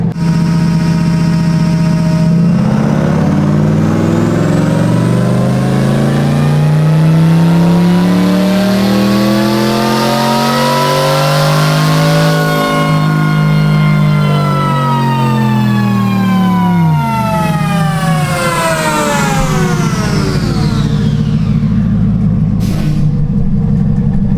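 A twin-turbo C8 Corvette engine revs hard on a dyno during a pull. It is loud and sustained, with the pitch rising steadily through the run, then falling away and settling into idle near the end.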